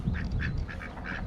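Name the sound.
duck quacking at park pond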